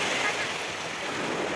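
Sea waves wash steadily onto a Mumbai beach in a continuous broadband roar of surf with wind noise, close and fairly loud, while a voice speaks faintly underneath.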